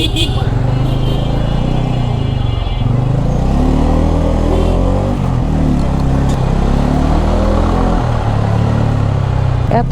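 A Bajaj Pulsar N250 motorcycle rides through city streets, its engine droning and rising and falling in pitch with throttle changes, loud and close, with a rider talking over it throughout.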